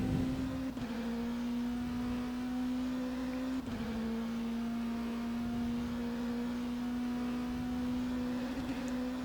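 A simulated LMP2 prototype race car engine in rFactor 2 holds a steady, high-pitched drone at near-constant revs, with two brief dips that sound like gear shifts, alone and moderately quiet.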